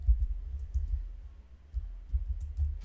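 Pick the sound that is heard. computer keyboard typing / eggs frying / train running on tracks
computer keyboard typing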